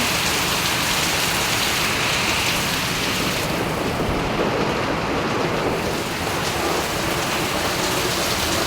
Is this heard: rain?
yes